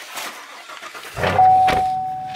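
A car engine starts up close by and settles into a steady running hum, with no one talking.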